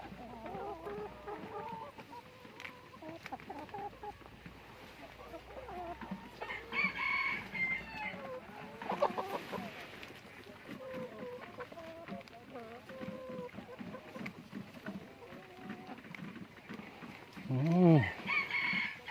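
Chickens cluck around a rural Thai homestead while a rooster crows loudly near the end, with someone talking over the birds throughout.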